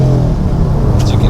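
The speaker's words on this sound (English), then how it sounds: "I definitely like my cars loud" Loud, steady low rumble of a car's engine and road noise inside the cabin while driving, with a loose, uninsulated dash rattling; a brief higher hiss near the end.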